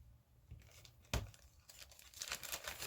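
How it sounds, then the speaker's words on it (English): A piece of paper cut in half for an altered book and hot air balloon craft, close crinkling and tearing-like rustles with a sharp snap, then continuous papery crackle. "we'll cut this one in half."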